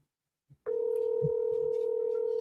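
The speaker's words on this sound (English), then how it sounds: "Let's see if he answers the phone." A telephone call is placed: after a short click and a faint blip, a steady dial tone begins and holds unbroken, clear and close, with a brief soft sound partway through.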